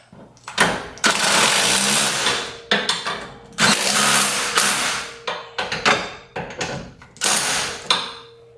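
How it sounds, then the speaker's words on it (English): Loud, close bursts of a pneumatic impact wrench tightening bolts during a coilover install on a BMW E36, several rattling runs of about a second each separated by short pauses. "Now we can go ahead and hammer in with the gun."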